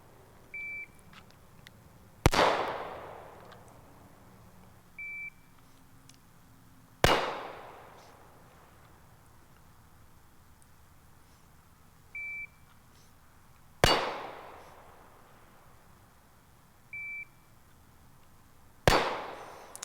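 Four sharp, loud pistol shots from a Staccato CS ring out on steel A-zone targets at a range, spaced several seconds apart, each with a ringing decay. A short electronic beep sounds before each shot.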